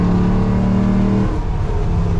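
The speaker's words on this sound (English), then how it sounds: "I'll let you listen to this V8 a little more." A 1970 Ford F250 truck with a swapped-in Coyote V8 engine drives along, its deep engine note steady and loud, then the revs drop and settle.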